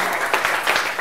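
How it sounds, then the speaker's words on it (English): A meetup audience gives a brief round of applause, a dense, even patter of many hands at steady loudness with no speech on top. "A round of applause"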